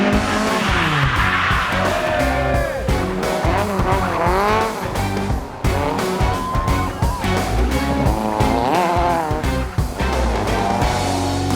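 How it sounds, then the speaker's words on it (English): A Datsun 1600 rally car spins and skids on the road, its engine revving hard while the tires squeal in long, loud, rising and falling wails throughout. "Best spin and recovery to Jesse Roberson in the Datsun"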